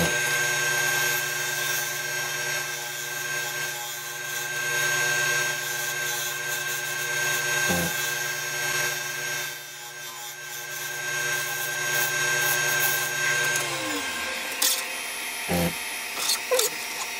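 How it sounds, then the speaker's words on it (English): Wood lathe turning a trinket box with a point tool, a steady whirring drone with a tonal hum as the tool rubs the spinning wood, running continuously then dropping as the motor slows near the end. "Put the point tool back in again, using it a bit like a detail gouge."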